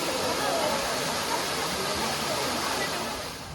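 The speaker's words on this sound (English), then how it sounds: "So that's the second part of that waterfall." A waterfall gives off a steady, full roar of rushing water that stays loud and even throughout, then eases slightly near the end.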